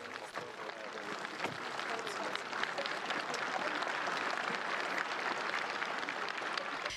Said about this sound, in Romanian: Președintele Klaus Iohannis a fost întâmpinat cu aplauze în Piața Mare de la Sibiu, unde oamenii i-au scandat numele.